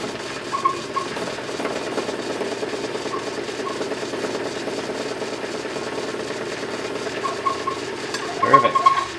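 A boring tool machines the babbitt bearing of a Model T Ford connecting rod, giving a steady, moderate mechanical whir with fine rhythmic ticking that grows louder near the end.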